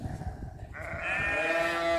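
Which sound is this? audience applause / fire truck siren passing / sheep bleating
sheep bleating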